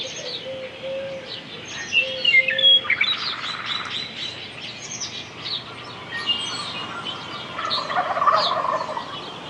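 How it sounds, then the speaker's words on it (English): Wild turkeys gobble in repeated rattling bursts on a hillside meadow on an early spring morning, with other birds chirping and calling around them at a moderate distance. "hopeful suitors gather upon hillside meadows to gobble and display their prowess"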